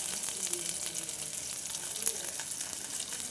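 Food frying in a pan, a steady dense sizzle with soft crackles that holds at an even level throughout, with no talk.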